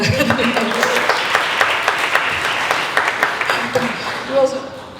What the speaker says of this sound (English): Big round of applause for Pam.